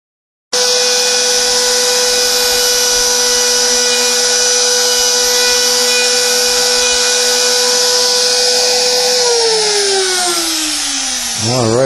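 A handheld power carving tool cuts into wood while shaping a Celtic toy chest, giving a steady, loud high-pitched whine that runs unbroken before winding down at the end.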